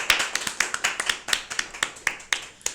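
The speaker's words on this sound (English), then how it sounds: "So let's give them a round of applause." Sparse applause from a small audience at a community fundraiser, only a few pairs of hands giving distinct, separate claps in an uneven rhythm, fairly close and moderately quiet, with no voices.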